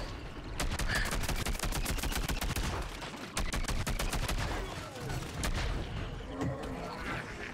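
Rapid sniper and automatic gunfire in the video game Plants vs. Zombies Garden Warfare 2, dense repeated loud shots rattling almost continuously with brief pauses.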